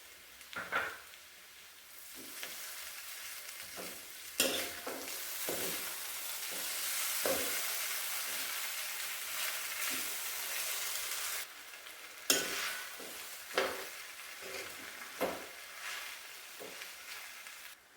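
Sabudana khichdi cooking in a pan with potatoes, crushed peanuts and lemon, being stirred: a steady, soft frying hiss broken by intermittent scraping strokes of a spoon against the pan, close and fairly quiet.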